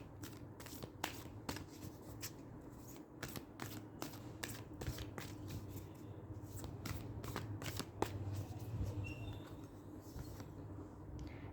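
A deck of tarot cards is shuffled close up, a long run of rapid crisp riffles and flicks over a steady low background hum, with no talk.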